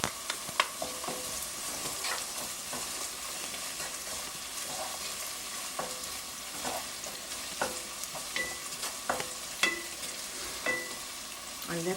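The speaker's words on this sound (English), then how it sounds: "we're going to saute the onions for about 3 minutes until it's fragrant" Onions and garlic sautéing in a pan for a Lebanese-style vegan stew, a steady close sizzle and crackle with repeated scraping and clacking of a utensil stirring the pan, no talking.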